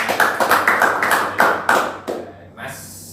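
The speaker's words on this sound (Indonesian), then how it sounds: "tepuk tangan buat" Small group clapping in a counseling session room, a quick burst of rhythmic claps close by that loosens and fades out within a few seconds.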